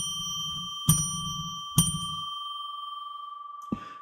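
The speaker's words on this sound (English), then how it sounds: "I'm going to ring a bell 3 times to get us into sacred space" A small bell struck three times, each ring clear and sustained with a long shimmering decay, followed by a sharp click at the end, heard alone at close range.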